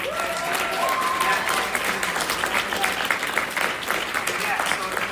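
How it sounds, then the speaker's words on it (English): A convention audience at an anime con claps in a sustained, loud burst, with scattered voices and cheers mixed into the steady applause. "So a huge round of applause to them."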